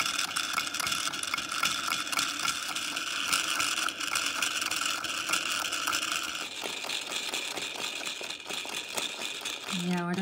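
A plastic hand crank on a Moko Moko MokoWash toy washing machine ratchets and clicks continuously at close range, a steady rapid rattling throughout, with a few brief voices near the end.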